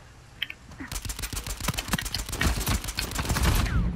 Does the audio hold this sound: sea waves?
no